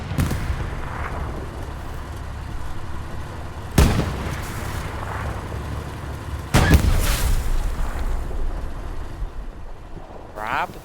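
Tank cannon fire in Hell Let Loose on a sunny Utah Beach map: two heavy high-explosive shots boom out several seconds apart over constant engine rumble and battlefield noise, with voice chatter throughout.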